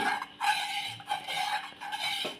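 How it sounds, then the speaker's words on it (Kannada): Wood-flour payasam mixture made from ichalu tree wood powder is stirred in a pot, giving quiet, repeated scraping and swishing strokes close by. "ಕಲಸಿ, ಯಾಕಂದರೆ ಅಡಿಯಕ್ಕೆ ಅದು ಅಂಟಿರಬಾರ್ದು"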